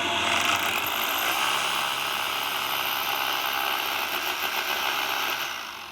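A loud, grinding drill bores into a concrete ceiling close by, a harsh mechanical roar with rattling texture, winding down at the end.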